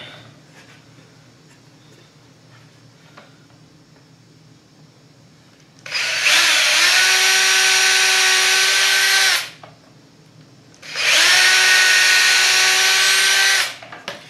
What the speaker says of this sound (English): Grab 2 more 3-inch screws and just secure this side.